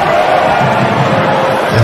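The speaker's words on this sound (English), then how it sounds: "as you can hear the roars from the home crowd" A home crowd at an AFC Champions League football match between Persija Jakarta and Newcastle Jets roars steadily and loudly, a dense, sustained wall of voices without a break.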